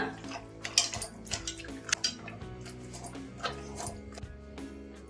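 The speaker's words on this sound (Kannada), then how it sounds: "ಇವಾಗ ಬೆಂದಿರೋ ತರಕಾರಿಗಳನ್ನ ಈ ತರ ಸ್ಮ್ಯಾಶರ್ ಅಲ್ಲಿ ಚೆನ್ನಾಗಿ ಸ್ಮ್ಯಾಶ್ ಮಾಡ್ಕೊಳ್ಳೋಣ" Boiled vegetables are mashed with a masher in a pot, making a series of irregular soft thuds, squelches and metallic clinks against the pan, close and fairly quiet, with no speech.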